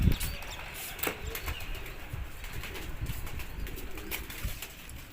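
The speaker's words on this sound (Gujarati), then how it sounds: "હાલો હવે આપણા કબૂતર દેખાડીએ." Rajdhani pigeons kept for pigeon flying in India take off, their wings flapping in repeated close bursts over a steady outdoor background. Faint coos and chirps are scattered throughout.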